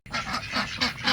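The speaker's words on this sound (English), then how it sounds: "Hello, ducks." A small flock of ducks gives several quick, loud honking quacks close by, overlapping in short bursts, as someone feeds them outdoors.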